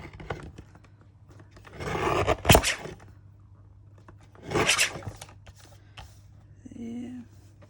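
Paper being trimmed for a junk journal, two bursts of close rasping, tearing cuts separated by quiet stretches, followed by a short faint hum near the end.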